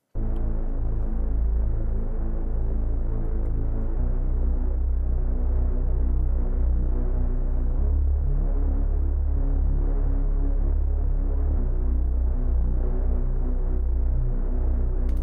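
A deep, throbbing synthesized bass plays on its own, thick and sustained with a slow pulsing movement, loud and steady throughout.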